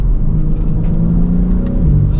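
A 2023 BMW M4 Competition Convertible xDrive accelerating under load, its engine a steady, close mid-pitched roar with a dip near the end that suggests a quick gear shift, continuous and alone without talk.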